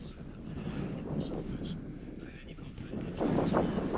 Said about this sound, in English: That wind's getting up, like.